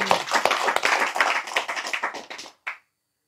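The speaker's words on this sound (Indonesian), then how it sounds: "Tepuk tangan untuk Mr. Tem." A crowd at a religious gathering claps steadily for a couple of seconds, the applause thinning out and ending with a final short burst of claps.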